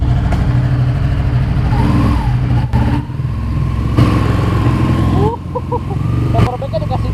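A Ducati Panigale 1199S motorcycle at a McDonald's drive-thru, its engine loud and close, with a steady throbbing idle that swells into several sharp revs while people talk over it.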